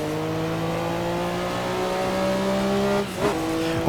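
A Porsche 962C Group C race car in Assetto Corsa at Norisring, engine droning loud and steady under wheel spin out of the final hairpin, a brief tire chirp and shift near the end.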